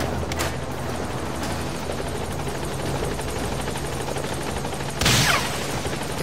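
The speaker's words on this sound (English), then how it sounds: "Support helicopter is arrived." Continuous support helicopter drone throughout in the video game Metal Gear Solid V, with faint bursts of gunfire and a sharp whooshing swoop near the end.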